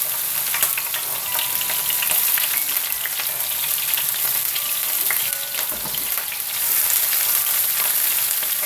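Raw cumin seeds frying in hot oil for a fish egg curry with mixed vegetables give a steady, loud crackling sizzle with scattered sharp pops and a brief stirring dip, with no voices.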